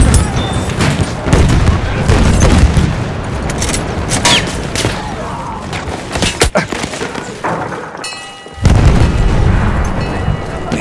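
Grenade blasts and gunfire rumble through a Rush match on the River Somme map in Battlefield 1, with heavy booms around the middle of the clip, a brief lull, then another loud burst of battle noise near the end.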